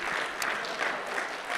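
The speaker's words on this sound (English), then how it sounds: "Keep clapping for them" Audience applause at a live music and author evening in Bushwick, a steady wash of clapping that holds at an even level through the brief moment with no voices on top.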